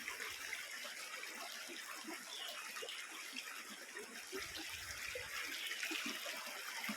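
River flowing through forest in Kerala, inside Elival forest: a steady, dense rush of water, broad and continuous throughout, with no voices.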